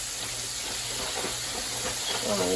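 Steady broadband sizzle of chicken frying in a pan, constant and close, with a faint low hum underneath.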